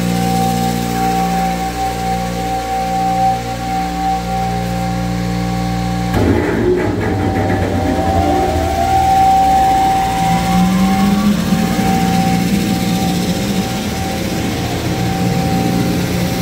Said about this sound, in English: then we're gonna turn on the vacuum so we can suck up the dust